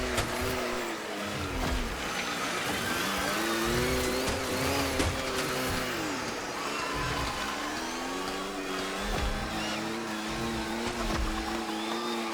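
A small electric RC car races in The Crew Motorfest, its high whining motor rising and falling in pitch with throttle changes, loud and continuous throughout with no talking.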